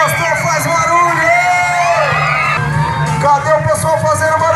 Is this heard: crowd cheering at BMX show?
yes